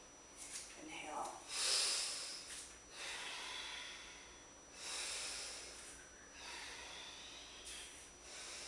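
Steady heavy breathing during an advanced ballet workout, with a sharp inhale near the start followed by several slow, audible breaths at an even, repeating pace, close to the microphone.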